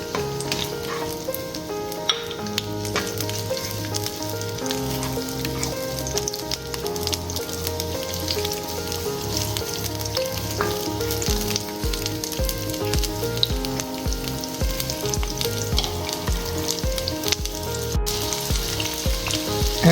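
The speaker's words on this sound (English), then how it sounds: "Next, we're going to lightly saute our onion." Sliced onion lightly sautéing in a pan for Filipino beef steak, a continuous crackling sizzle with occasional stirring scrapes, steady and close, with music in the background.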